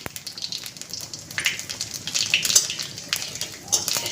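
Bay leaves and whole cumin seeds sizzling in hot mustard oil in a pan, a steady close crackling hiss with brief louder bursts of spitting, no voices over it.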